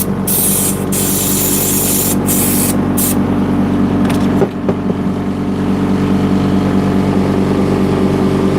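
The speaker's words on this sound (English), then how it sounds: "It's gotta empty the compressor." Compressed air hisses loudly from an air compressor being emptied in a tool repair workshop, a continuous spraying blast with a few brief bursts at the start and a short break midway.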